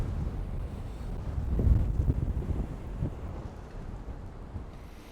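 Stormy wind buffeting an exterior microphone near water, a low rumbling rush with gusts swelling and easing, loud and continuous with no talk.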